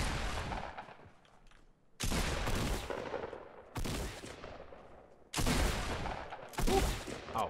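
Shotgun blasts in the Fortnite video game, several loud booming shots spaced a second or two apart, each with a long decaying tail.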